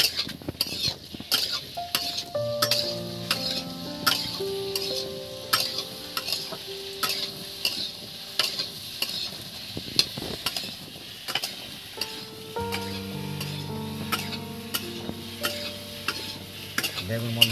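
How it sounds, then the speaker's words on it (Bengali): Potatoes stirred and fried in mustard oil, a steady sizzle with repeated metal spoon scrapes and clinks against the pan, alongside tonal ringing. "প্রথমে আমার আলুগুলো তেলের মধ্যে আমি নেড়ে চেড়ে নিচ্ছি"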